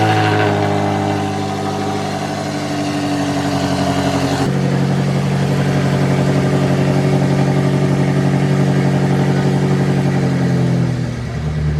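Tuned BMW X5M Competition SUV fitted with downpipes idles loudly and close, a deep steady rumble that shifts to a fuller, heavier drone partway through and holds, with no talking.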